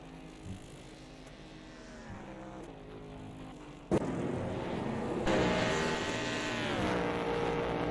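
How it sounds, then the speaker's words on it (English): Race car engine in a sim racing game at Watkins Glen Inner Loop, a faint steady whine that jumps abruptly louder halfway through and holds there, rising and falling in pitch. "I am bothered by the lack of engine volume we have."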